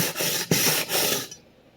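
A vintage Clyde Cutlery chef knife edge is drawn across a diamond plate for truing, giving a few quick gritty rasping strokes close up that stop abruptly.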